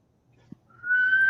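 A person whistles to call a dog: a single rising, steady whistled note that swells and holds, preceded by a faint low murmur and a small click.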